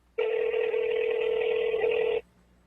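A telephone ringback tone on an outgoing call sounds as one steady, sustained electronic tone lasting about two seconds, clear and alone, with no talk over it.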